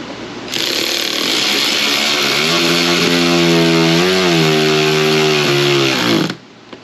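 A handheld power tool drives fasteners into the interior of a GMT800 truck, roaring loudly and steadily for about six seconds, with the motor pitch sagging briefly under load before it winds down. It is very close, with no talking.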